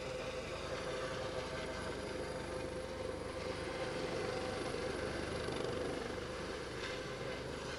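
A helicopter hovers during a rescue hoist, its rotor and engine roaring loud and steady without a break, with no one talking.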